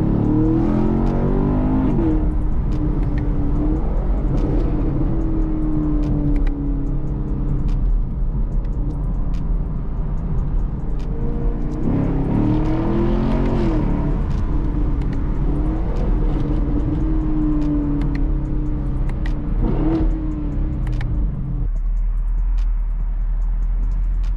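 A 2021 Chevrolet Camaro SS with about 455 horsepower and a 10-speed automatic accelerates hard, its V8 engine rumbling loudly as it climbs through repeated rising revs and shifts, with no talking over it.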